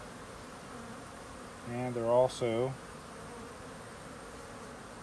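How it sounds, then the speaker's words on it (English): Honey bees buzz in a steady, low hum around queen cells while a hive is being split, with a short spoken phrase near the middle. "you can see the bees are actually going after the honey"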